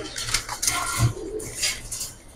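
A punky pigeon coos near and clear, giving a few soft, low, throaty calls over a hissy background with no talking.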